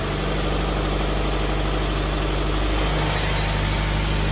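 A Toyota GT86 engine idling steadily after an oil change, with a low, even rumble and slight vibration, loud and close, no voices.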